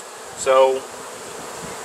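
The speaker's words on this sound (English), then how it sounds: "there's still a pretty good bit of bees flying around." Bees fly around a bee tree during a forced abscond, giving a buzzing drone with one louder close pass, and a person says a single word.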